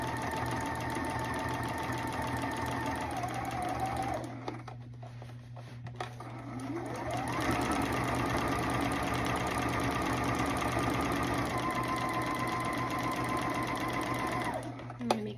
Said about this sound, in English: Just stitching the back yoke onto the back at the traditional 5/8 of an